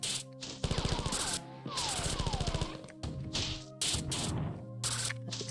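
Video game Marathon gunfire: rapid bursts of automatic shots mixed with impacts, sweeping electronic tones and crashes, moderately loud and layered over a steady in-game hum.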